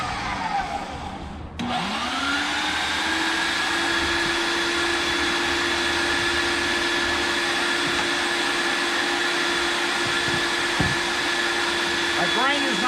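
Meat grinder grinding moose meat, a steady loud motor whine with tonal hum that starts abruptly and runs continuously, close and alone.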